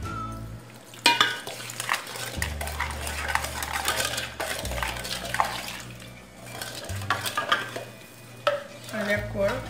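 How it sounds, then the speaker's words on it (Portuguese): A spoon stirs a coconut mixture made with milk and powder in a metal mug, scraping and clinking against the sides in repeated bursts, close and clear with no talking. "Vou usar o caneco aqui mesmo pra misturar."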